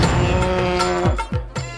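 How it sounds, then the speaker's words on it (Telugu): A water buffalo gives a deep, loud, close moo, followed by a couple of shorter low grunting calls at the end, with no talking. "గేదె."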